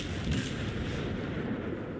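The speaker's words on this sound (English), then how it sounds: "So I subject him to gunfire." Dense, continuous rumbling gunfire from naval guns in World of Warships, heavy low booms blending into a steady roar with no talking.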